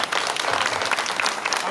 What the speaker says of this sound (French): Je dis bien une salve d'applaudissements.